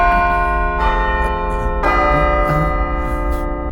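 A deep church-style bell tolls slow, resonant strikes spaced about a second apart, each ringing out with a long humming decay over a low rumble, loud and close in a dubbed horror-thriller scene with no talk.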